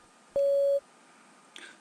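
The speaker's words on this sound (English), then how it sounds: "Please begin speaking after the beep." A single steady electronic beep marking the start of a TOEFL speaking practice response, clear and sustained for about half a second, followed by quiet.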